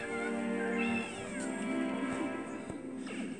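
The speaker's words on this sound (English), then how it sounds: "I had to let my grandma's cat out" A house cat meows several times in drawn-out, wavering calls, close and fairly loud, with a quieter rising meow near the end and no talking over it.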